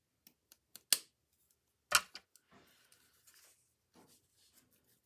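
Scissors snip through paper while a small decorative journal is trimmed, a few short close crisp cuts with soft handling rustles in between.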